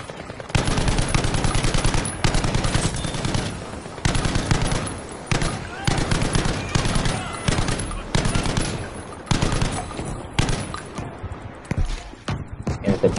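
Sustained bursts of automatic gunfire in Battlefield 5, loud and close. Rapid volleys repeat every second or two over about thirteen seconds with brief gaps between them.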